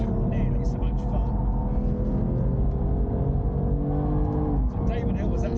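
A race car's engine drones loudly from inside the cabin on Thruxton race circuit, holding a steady high-revving note with gear-linked pitch shifts while someone talks over it.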